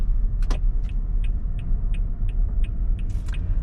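A car drives slowly through a parking garage, its low engine rumble steady and loud, while a faint, regular ticking chirp repeats about every third of a second above it, probably a turn signal.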